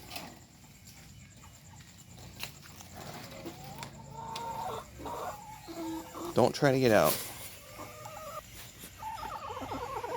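Rooster and hens clucking around a homestead garden in Mexico, scattered soft clucks rising to a loud, close squawking burst partway through, with a person talking nearby throughout.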